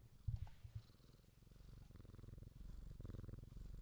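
A domestic cat purrs close by in a steady, rhythmic rumble that swells and fades with each breath, beginning with a few soft bumps and no voices.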